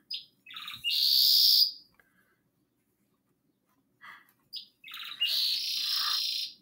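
Two bursts of loud, close bird chirps and harsh squawks, separated by a few seconds of silence.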